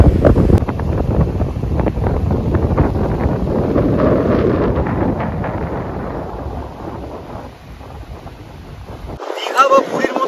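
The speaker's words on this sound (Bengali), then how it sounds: "যেটা আছে সেটা হচ্ছে এই অফুরন্ত হাওয়া" Strong, steady sea wind buffets the microphone on the beach at Mousuni Island, a loud continuous roar for about nine seconds before it cuts off abruptly.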